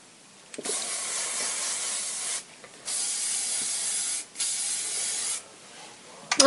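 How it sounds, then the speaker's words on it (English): Hairspray hisses in three long bursts with short pauses between them, close and steady, misted over freshly curled hair. "you're gonna do the final spray"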